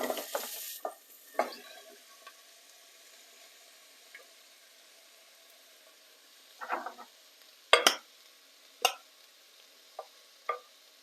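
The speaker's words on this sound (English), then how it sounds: "And we leave the onions in the pan stirring for 15 minutes to caramelize." Onions being stirred as they fry in olive oil in a pan, with a faint background sizzle broken by several sharp clinks and scrapes of the utensil against the pan.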